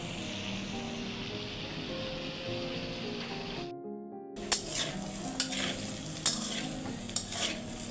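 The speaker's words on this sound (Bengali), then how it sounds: "করলা ভাজিটা আমার হয়ে আসছে, সুন্দর হয়েছে।" Bitter gourd (karela) frying in a pan, a steady sizzle with stirring scrapes, a brief cut to silence midway, then sharper stirring clicks and sizzling resume up close.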